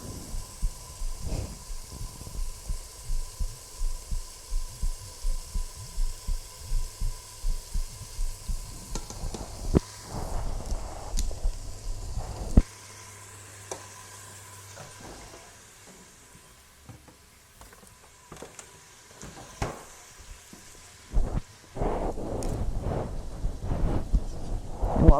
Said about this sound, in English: So we don't want to cook our meat through. We just want to brown it a little bit for some flavor.